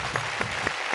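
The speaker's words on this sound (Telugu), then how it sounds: "క్లాప్స్ కమా" Applause at a televised game show between mother-in-law and daughter-in-law contestants: a few sharp, separate claps ring out over a steady background hum.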